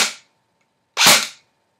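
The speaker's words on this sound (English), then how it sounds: "dry firing it out without anything on it, it sounds like this." VFC M4 airsoft rifle dry-firing on full auto with nothing loaded, heard as two short, sharp bursts of rapid mechanical clatter separated by a brief pause, close and loud.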